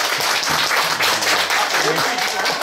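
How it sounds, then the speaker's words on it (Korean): Dense audience applause at a traditional Korean music recital, steady and fairly loud throughout, with a voice faintly audible beneath the clapping. "박수 한번 주십시오"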